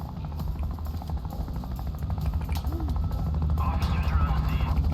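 A police helicopter in the video game Thief Simulator 2 drones overhead with a steady low rotor thrum that grows louder toward the end, under a player's talking.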